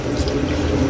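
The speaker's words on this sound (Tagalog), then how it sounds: "Pwede na tayong maglagay dyan tayo Kaylee ng tubig para tuluyan na ito siyang lumambot" Water poured into a pot of chicken nilaga with large chunks of meat, a short loud steady gush of liquid close by, alone without voices.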